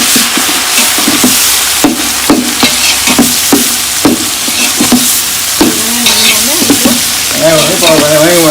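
Food frying and being stirred in a pot with coriander, mint and garlic for a large mushroom biryani: steady loud sizzle with repeated sharp scrapes and clanks of a ladle, continuous throughout with no talk.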